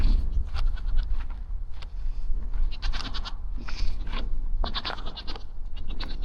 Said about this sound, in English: You can probably hear the goats screaming in the distance.